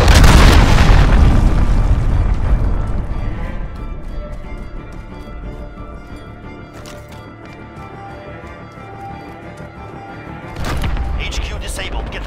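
An enemy cruise missile strike in a war game: a loud, close explosion opens with a deep roaring boom that slowly decays into rumbling debris, and a second burst hits near the end while voices talk in the background.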